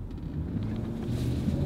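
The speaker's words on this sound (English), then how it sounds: "That's got a big engine, so let's see how it takes off." A cheap SUV with a big engine accelerates from a stop, its low engine rumble building steadily from inside the cabin.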